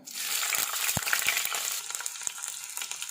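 Garlic and long-cut ginger frying in hot coconut oil crackle in a dense, close sizzle, sprinkled with tiny pops and a couple of soft thuds as pieces are stirred.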